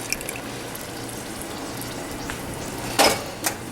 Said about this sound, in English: I'm going to add about 3 cups of coconut milk